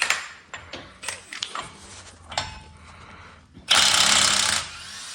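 An impact gun loosens a 46mm axle nut on a Ram Promaster with a 3/4-inch drive socket, giving one loud, dense burst of hammering after a stretch of quieter clanks and handling sounds.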